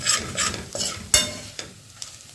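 Garlic frying to golden in a pan for a rustic Maharashtrian mixed-vegetable bhaji, sizzling close by as a spoon stirs it in several distinct scraping strokes, one sharp clink standing out, no voices.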